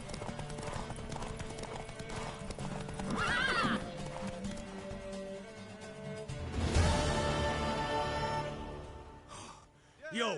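A horse neighs and its hooves clip-clop in The Witcher 3: Wild Hunt, a loud whinny in the middle over steady hoofbeats, with game voices and ambience around it.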